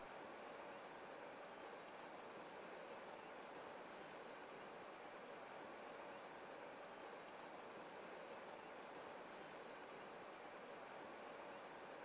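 The Olifants River flows under a bridge in Kruger, a steady broadband rush of moving water that holds at the same even level throughout, with no voices.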